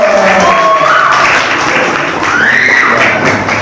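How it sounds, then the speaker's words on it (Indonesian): Audience applause at a community outreach talk, a dense, loud wash of clapping from a crowd that holds steady for a few seconds, with voices mixed in. "ibu tepuk tangan dong"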